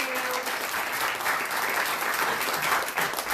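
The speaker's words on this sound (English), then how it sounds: "Let's put your hands together. Warm applause for this awesome couple." A live audience applauds an on-stage couple, with steady, dense clapping that fills the whole stretch at an even, fairly close level and no voices standing out.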